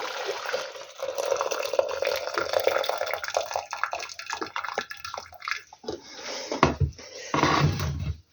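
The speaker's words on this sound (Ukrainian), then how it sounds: "І тепер буду зливати воду." Water drained from a pot of boiled potatoes pours into a sink in a steady, splashing rush, ending in a few sloshing bursts.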